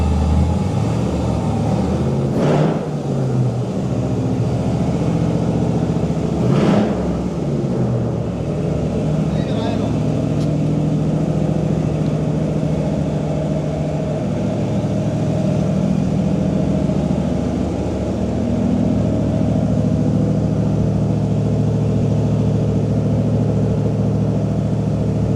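A car engine idles steadily and continuously at close range, a low droning rumble with slight shifts in pitch, while people talk nearby.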